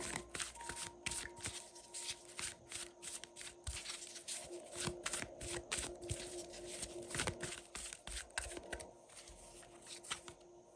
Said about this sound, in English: let's pull a couple of cards from the Animal Tarot deck